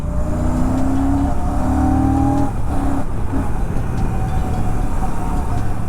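Royal Enfield Classic 650 twin cruising past 60 in third gear, a steady mid-loud engine drone with rumbling exhaust and road and wind noise, pitch holding fairly level apart from a brief dip partway through.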